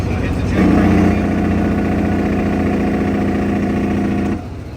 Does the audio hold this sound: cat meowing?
no